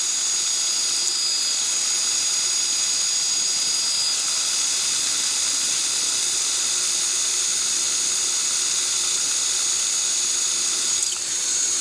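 An electric airplane motor runs steadily at 2100 RPM during a climb, giving a loud, continuous whirring drone with a broad rushing wash of air and no pauses.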